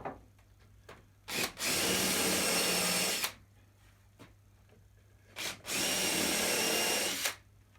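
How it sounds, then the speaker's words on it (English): A power drill countersinks screw holes in a window frame during a repair, two sustained whirring bursts of about two seconds each, loud and close, separated by quiet pauses with faint handling sounds. "Countersink so the heads don't stop the window from shutting."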